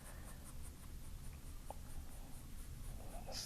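A Staedtler graphite pencil scratches and shades across paper in quick, continuous strokes, close and soft.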